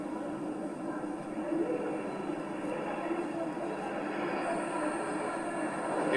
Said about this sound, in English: Airborne early warning and control विमान AEWNC 4 Rafale arrow formation में 415 kilometre की रफ्तार के साथ।